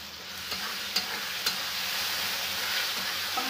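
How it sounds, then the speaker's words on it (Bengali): Chilli, ginger and garlic paste frying with chopped tomato in a pan, a continuous close sizzle with a few sharp utensil taps near the start, no talking. "মশলাটা ভালো করে একটু কষিয়ে নেব।"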